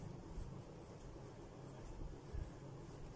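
Pen or marker writing a word on a board or page during a children's general knowledge lesson, a faint, soft scratching close by with no speech.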